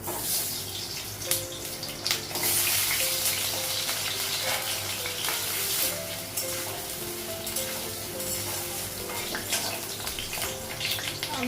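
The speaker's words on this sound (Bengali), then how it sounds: "ভাতটা নামানো আগে আলুটা ভেজে নেবো তেল আলুটা লাগাবো" Potatoes frying in hot oil in a home kitchen, a steady broadband sizzle throughout with faint clinks, close and continuous, with no talking.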